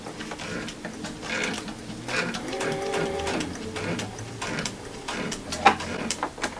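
A sewing machine stitches a log cabin quilt block, its rapid mechanical needle chatter running in short bursts with small pauses, close by and moderately loud.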